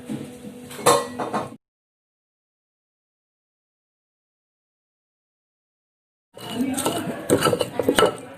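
Spices for Klaten-style sambal tumpang are ground in a stone mortar, with two short bursts of scraping and clinking stone separated by a long silence, close and fairly quiet.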